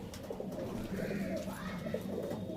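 Soft, low cooing from a Kalshira pigeon close by in a loft, repeated in gentle throaty phrases over faint background noise.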